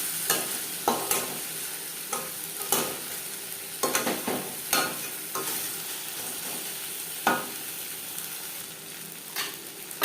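Bhetki fish fat fries in hot oil in a pan, giving a constant low sizzle. Irregular, close spatula scrapes and stirring strokes recur every second or so, with no talking.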